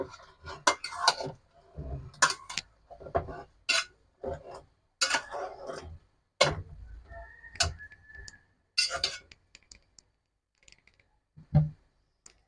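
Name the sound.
stirring beef curry in a cooking pot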